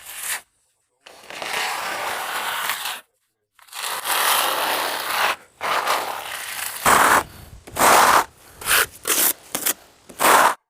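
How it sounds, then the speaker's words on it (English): Brick slip joints being filled with glue that is spread and then scraped off with a trowel, giving a string of close, dry rasping scrapes in short bursts separated by brief pauses, with no talking. "glue is applied on top and spread out and then it's scraped off like this"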